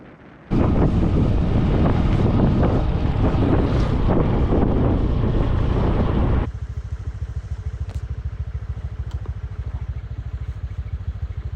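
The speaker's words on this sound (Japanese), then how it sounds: "Gió Lào ồn quá, nó nóng." Loud, hot Lao wind roars across the microphone while riding a motorbike along a mountain road in Vietnam, a dense buffeting rush that cuts off abruptly to a steadier, quieter engine rumble with lighter wind noise.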